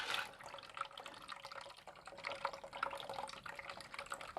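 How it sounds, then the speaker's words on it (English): Coolant flush water drains out of a Silverblade cooling system, a soft trickling and gurgling flow with faint drips, quiet and close throughout. "You see also here the water go down."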